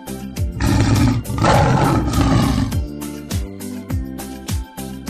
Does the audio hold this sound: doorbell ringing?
no